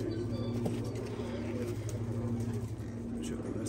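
Young pigeons cooing in a coop, soft repeated low coos in a steady pattern over a constant background hum, with a voice talking over them.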